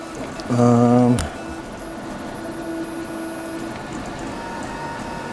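A Qidi X Max 3 3D printer is printing while skipping: a short, loud buzzing stepper-motor tone stops with a sharp knock, then gives way to quieter, steady motor whirring.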